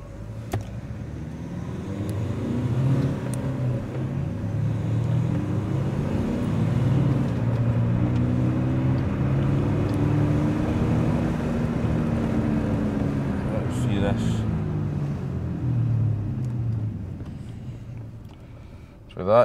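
A 2013 Nissan X-Trail 2.0 diesel with sluggish, poor performance drives along a road, its engine and road noise holding a steady, fairly loud drone throughout, with pitch rising and falling gently and a brief bump at the end.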